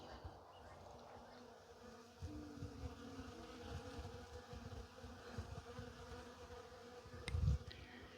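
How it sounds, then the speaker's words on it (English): A soft, continuous buzz of many bees humming among branches, steady and fairly distant, with a slightly louder buzz passing close near the end. "and so have the bees. This tree is absolutely humming with them."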